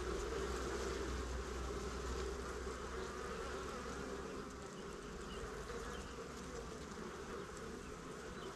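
Honeybees swarm around an opened beehive in a community garden, producing a dense, steady buzzing that fills the air without pause and stays close and loud throughout.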